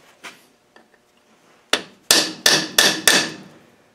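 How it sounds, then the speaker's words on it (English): A blunt chisel struck with a hammer against a gearbox during an LT230 mainshaft gear and reseal job: a couple of faint taps, then five loud, sharp metallic blows in steady succession, close up with no talking. "Maybe do a bit better with a blunt chisel, I would have thought."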